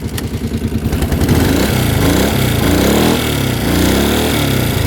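A warmed-up ATV engine runs close by with a loud, steady, throbbing idle, its rhythmic pulsing slightly uneven as the revs shift.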